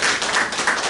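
Applause from an audience at a workshop on social entrepreneurship, sustainability and rural participation: dense, continuous clapping that fills the whole second at a steady, fairly loud level.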